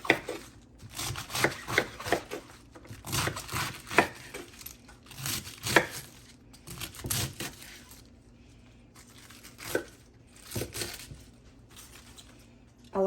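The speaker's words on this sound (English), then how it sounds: "Roughly chop it. We're not going to make it super tiny because this is a country slaw." Vegetables for a country slaw are roughly chopped into inch-sized chunks with a knife, giving a series of sharp, irregular thuds and crunches close by, separated by short quiet pauses.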